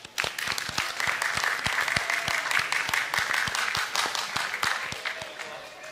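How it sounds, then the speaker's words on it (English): An audience applauds steadily at a medical school white coat ceremony, with a few sharp, distinct claps standing out above the crowd's ongoing clapping. "Let's give them another round of applause."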